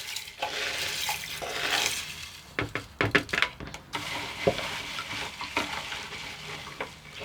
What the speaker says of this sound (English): Potassium hydroxide always makes a good noise when it's dissolving, sort of hissing and almost a crunching noise